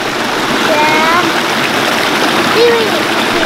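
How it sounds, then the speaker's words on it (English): Steady broadband rush of a small waterfall in a creek at Mingo Creek Park, close and continuous throughout, with faint voices and a brief higher tone partly mixed in. "Waterfall."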